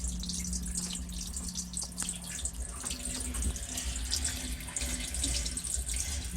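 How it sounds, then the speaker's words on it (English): Water leaks from the cracked stuffing box of the sailboat SV Chanteclear, berthed in Duncan Dock in Cape Town, giving a steady trickle and hiss over a low hum of machinery, close and without talk. "You can see the water coming out."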